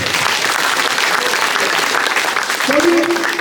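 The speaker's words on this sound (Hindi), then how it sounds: "एक बार जोरदार तालियों से।" Loud, dense applause from a village chaupal gathering in Kheda Tharu, sustained clapping throughout with a voice briefly heard underneath near the end.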